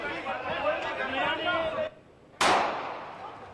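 A crowd murmurs and chatters at the Golden Temple, then after a brief lull a single sharp, loud gunshot cracks out and rings briefly.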